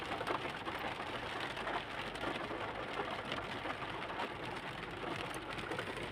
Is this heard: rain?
yes